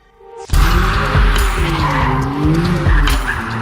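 A McLaren Artura hybrid supercar slides with its tyres skidding, a loud close squeal starting abruptly and holding for about three seconds over a rising engine note, with no speech.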